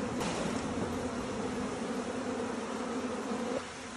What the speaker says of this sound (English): What I'm doing is just getting all the bees off these combs